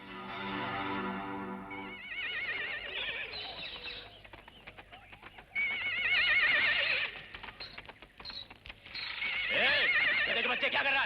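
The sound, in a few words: horse neighing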